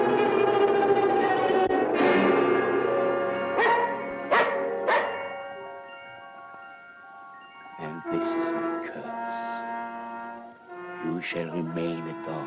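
A dog barks several times in a film scene, sharp yelps over sustained orchestral music, with a second cluster of barks later and brief pauses between.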